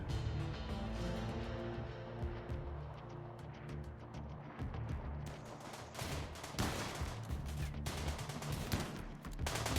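Gunfire in the Rimworld game, a rapid stream of distant shots and bursts layered over a dense low rumble of music and noise, with no talk.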